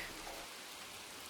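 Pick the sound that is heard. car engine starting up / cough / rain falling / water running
rain falling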